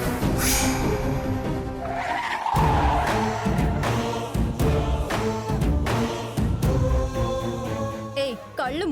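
A car screeches and skids while being driven straight at someone, tyres squealing under dramatic music stings and sharp hits, loud and close throughout.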